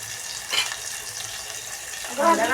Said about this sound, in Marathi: ते दुसरा मसाला भाजून घ्या भाजून